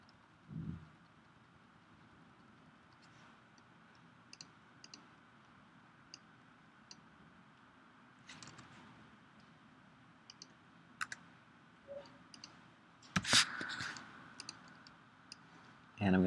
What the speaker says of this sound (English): And with the keyboard, I'm just going to push them down.